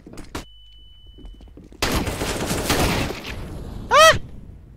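Gunfire in CS:GO comes as a sharp early shot, then a dense burst of rapid firing lasting over a second, followed by a brief ringing, warbling game effect; loud and near, with no speech.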